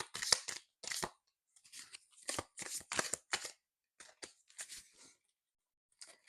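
Soft, papery riffling and slapping of tarot cards being shuffled in short irregular bursts with quiet pauses between them, close by.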